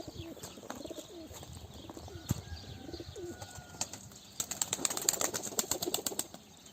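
Soft, low pigeon coos repeat among scattered chirps and light rustling, followed by a burst of wing flaps and sharper clicks near the end.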